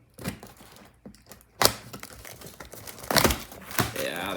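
Blade cutting across the top of a product box during an unboxing, scattered scratchy slicing strokes and crinkling cardboard, close and fairly quiet, no talk.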